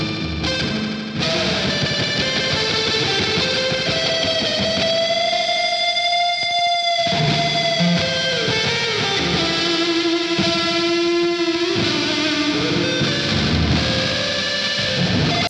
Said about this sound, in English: So it's a modulated, very fast, very high feedback delay.